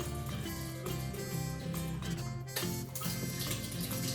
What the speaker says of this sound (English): go to my sink and pour like this, and the liquid will come out